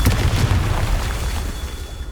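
A Confringo spell explodes in Hogwarts Legacy, a loud, broad booming blast with a rumbling low end that rolls on and slowly tapers away.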